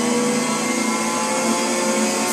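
A GT300 race car engine in a racing video game league race, a loud, steady high-revving drone with a constant buzzing tone that holds unbroken from start to finish.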